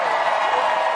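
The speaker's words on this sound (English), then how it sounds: "Give Officer Nash a round of applause." A brief burst of crowd applause and cheering for a police officer at the NYSE Christmas tree lighting, a thick and steady roar of many hands and voices lasting about a second.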